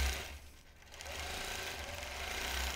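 A sewing machine quilts a feather design, running in a close continuous mechanical whir that briefly dips and then picks back up.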